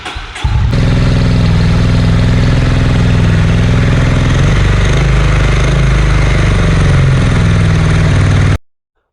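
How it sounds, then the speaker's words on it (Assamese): A Honda CB 350 RS motorcycle runs up close, its loud, steady, deep exhaust thrum holding for about eight seconds before cutting off sharply. No one talks. "এতিয়া আপোনালোকে ইয়াৰ এক্সজষ্ট নোটটো শুনি চাওক কেনেকুৱা হয়।"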